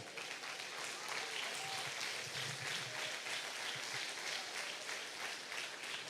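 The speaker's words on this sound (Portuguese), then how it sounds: "aplauda ao Senhor" Steady, dense applause from a congregation at a Wednesday evangelical church service, holding at an even loudness for several seconds with no break.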